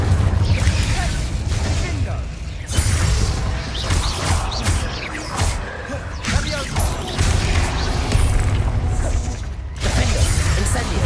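Confringo and Incendio spell blasts in Hogwarts Legacy, a rapid run of crashing bursts and whooshing impacts mixed with game combat sounds, with a voice speaking over the action.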